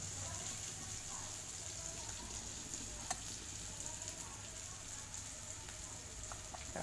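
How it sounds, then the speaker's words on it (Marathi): Homemade red masala, onion-garlic masala and black masala hit hot oil in a home kitchen pan, giving a steady, fairly quiet sizzle with a few faint clinks of a spoon stirring. "आता याला तेल सुटलंय, आता मसाले टाकून घेते मी"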